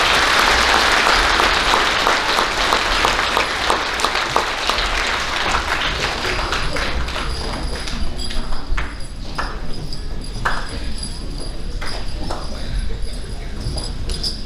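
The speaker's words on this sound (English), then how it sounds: "Let's give these third grade students a round of applause" An elementary school awards audience claps for third grade students, steady, dense clapping with some crowd murmur underneath that continues throughout at an even level.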